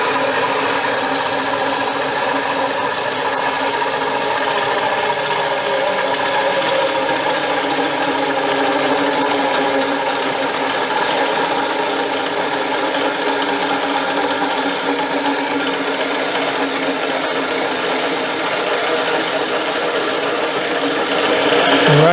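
A 1918 Jas. Clark Jr. Electric Co. friction drive drill press runs at high speed, about 4,000 RPM, giving a loud, steady mechanical whir with a rattling, gear-like edge throughout.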